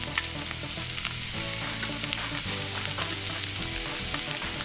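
Leftover cooked hamburger meat warming in a frying pan gives a steady, fairly quiet sizzle and crackle with faint stirring scrapes, continuous throughout with no talking.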